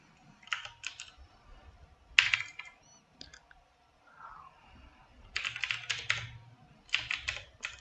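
Computer keyboard typing while filling in an online form: close, sharp clusters of keystrokes in several bursts separated by short pauses, with a faint soft sound in one gap.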